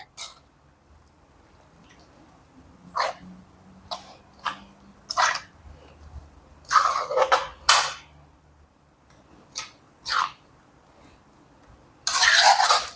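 Anchovy curry being stirred in a pot, giving a few separate scraping and clinking bursts spaced irregularly, close and fairly loud against a quiet background, with a denser rush of stirring at the end.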